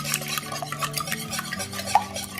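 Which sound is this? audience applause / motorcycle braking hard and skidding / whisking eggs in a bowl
whisking eggs in a bowl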